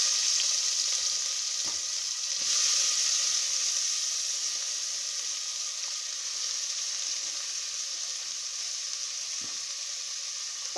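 Onions sizzling in hot coconut oil for a beef curry, a steady bright frying hiss that runs evenly through the whole stretch with occasional faint stirring clicks and no voices.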